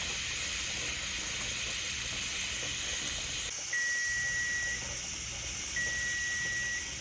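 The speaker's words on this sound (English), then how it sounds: "All right, the timer's going off" A kitchen timer goes off during pressure canning of okra, giving two steady, sustained electronic beeps about two seconds apart over a constant loud steam hiss from the canner, with no voices.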